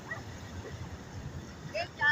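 At Ocean Beach dog beach in San Diego, a dog gives a few faint yips and bow-wow sounds over low, steady surf noise, while a person speaks softly nearby.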